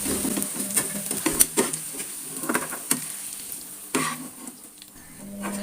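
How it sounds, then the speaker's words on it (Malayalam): Egg mixture fries in hot oil in a pan, with a soft sizzle beneath repeated clinks and scrapes of a utensil stirring against the pan, close and moderately quiet. "ഓയിലേക്ക് ഇട്ടിട്ട് ഇതൊന്ന് വറുത്തെടുക്കാം"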